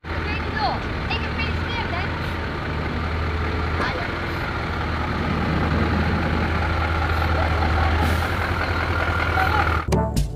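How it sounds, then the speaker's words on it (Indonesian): A cargo truck's engine rumbles steadily with a low idling drone under a busy mix of background noise, swelling slightly louder midway, ending with a sharp air-brake hiss near the close; talk is faintly present. "Di sini ada truk kargo."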